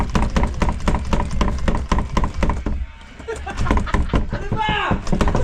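Heavy repeated banging on a locked wooden door, a steady rapid series of loud thuds that pauses briefly and resumes, with agitated shouting voices over it.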